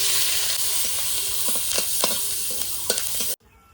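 Chopped green chillies sizzling in hot oil in a wok, a loud continuous hiss with repeated stirring scrapes and clinks, cutting off abruptly near the end.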